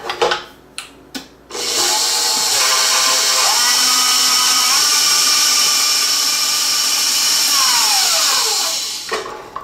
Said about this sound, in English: So let's get started mixing our butter and our cream cheese together.